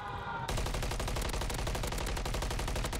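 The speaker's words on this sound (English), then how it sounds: "Oh, look at them shots." Rapid automatic gunfire in Call of Duty on Rebirth Island, a fast steady stream of loud shots starting abruptly after a brief moment and continuing without pause.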